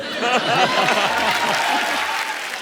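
Steady, dense studio-audience applause on The Kapil Sharma Show as a guest is welcomed, continuing throughout beneath a speaking voice.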